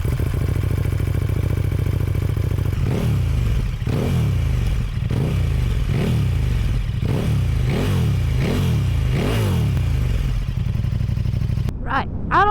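A 2018 KTM Super Duke 1290 R with an Akrapovic exhaust idles with a deep, lumpy burble, then revs again and again in rising and falling bursts as it pulls away, ending with a sharp throttle blip.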